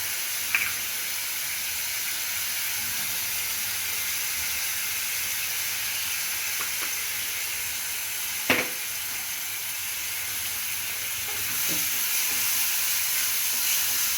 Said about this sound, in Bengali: এটা ভাজা হোক, নাড়ালাম, একটু ঢেকে দেব, ভাজা হতে থাকে।